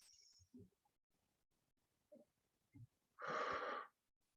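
A person takes one slow, deep breath, a long airy rush of air near the end following a few small soft mouth and breath sounds in an otherwise quiet room.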